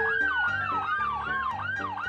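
Wailing emergency siren from a police-style car with strobe lights in the Roblox Car Driving game, a loud, steady rising-and-falling tone cycling about every half second with no other sounds.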